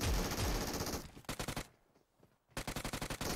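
Groza assault rifle fire in a video game: loud, rapid automatic bursts, one dense stream then two short strings of evenly spaced shots separated by a brief lull, no talking.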